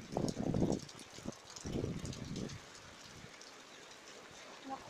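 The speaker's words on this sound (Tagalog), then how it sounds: "Malakas na malakas yung ulan." Steady rain patter fills the background while a voice speaks over it in bursts, then the downpour continues alone at a moderate level.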